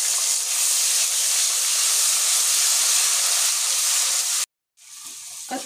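Ground chili and ginger fry in a hot pan with a loud steady sizzle and hiss, which cuts off abruptly and then resumes more quietly near the end.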